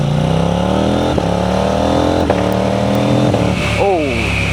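KTM 990 RC R motorcycle with a homemade exhaust delete, accelerating loud and close through several gear changes, each rising engine note broken by a brief shift; a voice talks over it.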